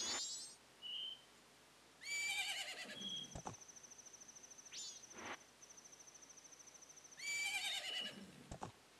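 Two bursts of a horse's whinny from a video game, a loud neigh near the start and another near the end, separated by a sustained electronic tone and a steady chirping, cricket-like background.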